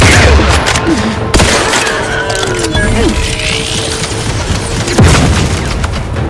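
Grenade blasts and gunfire in the video game Outer Worlds 2, loud booming explosions with sharp sudden hits near the start, middle and end, over a busy bed of rattling shots and mechanical clatter, with brief voice lines mixed in.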